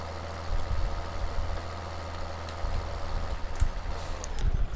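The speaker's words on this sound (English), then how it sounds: "Why does this tractor look so much more smaller?" Tractor engine in Farming Simulator 2013 runs steadily at a low idle-like drone, with a few faint knocks and clicks over the constant hum and no talking.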